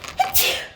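A single sharp human sneeze indoors during a tabletop role-playing game session, a quick inhaled catch followed by a loud burst.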